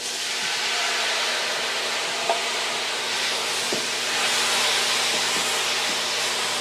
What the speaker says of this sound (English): So now I'm going to add the tomatoes.